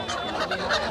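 Large Chinese geese at a rain-soaked rural poultry market in Gazipur give short, nasal honking calls up close, one after another in quick bursts.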